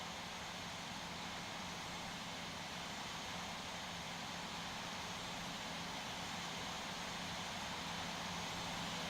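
KC-10 jet taxiing in the Infinite Flight game, a steady faint broadband engine hum and hiss with no change throughout.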